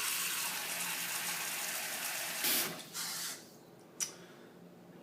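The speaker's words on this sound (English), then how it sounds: "add a little bit of lukewarm water" Lukewarm water pours into a cast iron pan at a sink in a steady close rush, then breaks off into a few short splashes and trickles.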